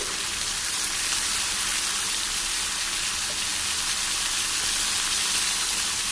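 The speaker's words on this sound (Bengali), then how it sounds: "এবার দিয়ে দেবো বাঁধাকপি।" Cabbage hits hot spiced oil in a pan with a loud, steady, dense sizzle that holds evenly throughout, close and unbroken.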